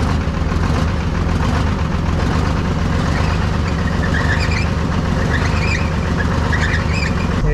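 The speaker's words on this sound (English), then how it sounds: "I'm gonna start it one more time, see if it goes in gear." A Chevy C70 truck's Detroit 6V53 diesel, left sitting for 30 years, runs at a loud, steady idle throughout, with a dense low rumble and no pauses or speech.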